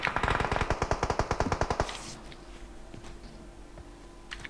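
Rapid automatic gunfire from the mobile battle royale game PUBG Mobile rings out in a fast burst of sharp, evenly spaced shots for about two seconds, then cuts off to quiet game ambience with faint clicks.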